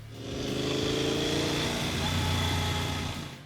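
A Yamaha Super Tenere 1200 motorcycle engine runs at a steady, close-up drone with a low rumbling note that holds even throughout, without sharp revs.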